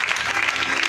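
A church congregation at Christ Impact in Côte d'Ivoire claps loudly in a dense, continuous burst of applause that fills the room for under a second.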